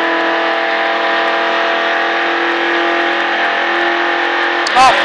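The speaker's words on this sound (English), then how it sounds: "Accelerating out. More and more." A NASCAR stock car's engine holds a steady loud drone while accelerating on a track, droning continuously throughout with a short clunk near the end.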